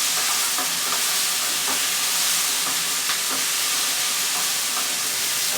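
Callaloo with garlic, mixed herbs and salt fries in a pan, giving a close, continuous loud sizzle and hiss with light stirring scrapes.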